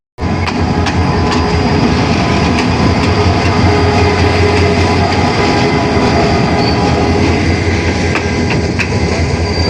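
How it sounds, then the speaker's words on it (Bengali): A Dinajpur commuter train pulls into Rangpur railway station, a loud continuous rumble of wheels on rails with metallic clanks and faint squeals running through the whole stretch, no voices. "সাড়ে সাতটার ট্রেন বিশ মিনিট বিলম্বে সাতটা পঞ্চাশে রংপুর রেলওয়ে স্টেশনে এসে প্রবেশ করলো"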